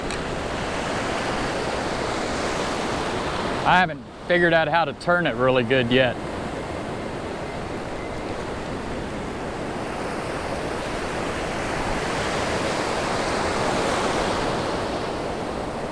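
Ocean surf washes steadily onto a beach, a broad continuous roar with gusts of wind noise on the microphone, while someone talks briefly near the start over the waves.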